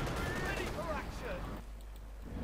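Artillery and gunfire crackle from a Company of Heroes 2 2v2 battle, low rumbling booms and bursts heard under lively voices talking over the action.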